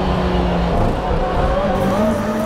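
Engine roar of a Roal Motorsport Chevrolet WTCC race car, heard onboard during a lap of Twin Ring Motegi in Japan, stays loud and continuous with a rising pitch as it accelerates, while a voice talks over it.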